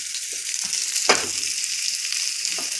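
Vegetables stir-frying in a wok, giving a continuous close sizzle with a sharper hissing surge about a second in and light stirring scrapes throughout.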